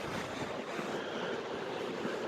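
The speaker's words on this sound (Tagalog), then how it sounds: "Dahil nasa sea tayo, nasa karagatan tayo." Ocean surf at New Brighton Pier in Christchurch makes a steady broadband wash with wind buffeting the microphone, a constant roar at moderate level and no distinct breaks, with no talking.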